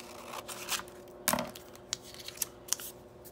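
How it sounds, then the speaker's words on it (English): Scissors trim a paper card in a few crisp snips and rustles, with one louder cut near the start and sharp clicks after, close and quiet with no talk. "what I'm going to do is pull this out and trim it."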